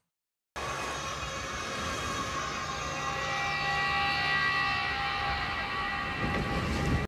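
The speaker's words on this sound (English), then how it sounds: "Is that the Hell's Kitchen sound effect?" The Hell's Kitchen TV show sound effect plays as one sustained, droning tonal swell that fades in sharply and holds steady for several seconds at moderate loudness, with no talking over it.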